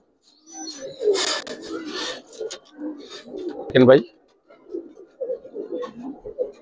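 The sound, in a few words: Giribaz and coloring pigeons cooing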